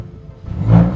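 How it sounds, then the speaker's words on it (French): A Peugeot 308 GTi engine fires up and revs once, a short rising roar that swells near the end of the burst, close and fairly loud with no voices. "je te propose de démarrer le moteur"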